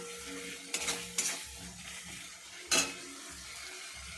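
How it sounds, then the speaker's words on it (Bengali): Masala spices fry in oil with salt for a lote fish dish, a low, quiet sizzle broken by three sharp scraping clatters of a spatula against the pan, no voices. "নুন দিয়ে মশলাটাকে একটু ভালো করে ভাজবো, যতক্ষণ না মশলার কালারটা একটু লাল হচ্ছে"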